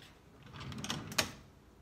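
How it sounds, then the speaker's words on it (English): A kitchen drawer slides open in a short, soft rumble ending in a sharp knock, heard close and alone in a quiet room. "Let me show you the drawer that maybe I should start going through."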